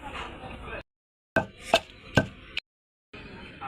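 Coriander is pounded in a stone mortar for chutney, producing four sharp, close thuds in quick succession between stretches of quiet and faint background noise.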